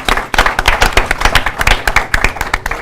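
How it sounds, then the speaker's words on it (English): Round of applause for the tech crew at a storytelling talk, a smaller group clapping close and loud with distinct irregular individual claps rather than a smooth roar. "Can I get a round of applause for the tech people who we can't do things without"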